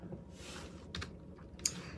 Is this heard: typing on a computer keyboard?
yes